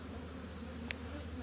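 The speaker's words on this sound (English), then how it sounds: "If you'll smoke these bees and try to get them off the lip." Honeybees buzzing steadily at a low drone during a beehive inspection, a continuous faint hum with one brief sharp click partway through.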